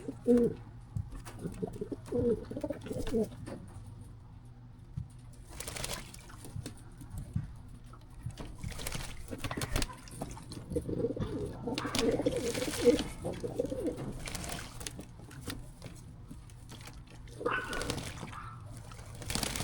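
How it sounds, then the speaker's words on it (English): Racing pigeons in a loft give soft, repeated low coos while bathing, with faint splashing and fluttering water sounds, a close, quiet indoor scene with irregular bursts of activity. "watching the birds take a bath"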